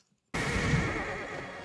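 A horse neighs loudly in a scene from the 1999 film The 13th Warrior. The whinny bursts in suddenly after a moment of silence and holds strong, close and full for over a second.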